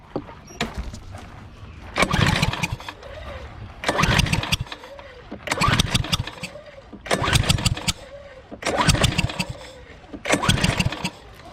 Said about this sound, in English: It was really backfiring through the intake real bad